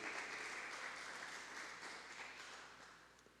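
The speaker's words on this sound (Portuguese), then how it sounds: "dá uma salva de palmas para Jesus" A church congregation claps for Jesus, a sustained wash of applause that stays fairly even before gradually thinning and fading toward the end, with no voices over it.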